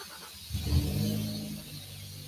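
A big-turbo Dodge Dart engine on a dyno revs up briefly and loudly, then holds a steady drone that fades slightly, heard up close in an enclosed space.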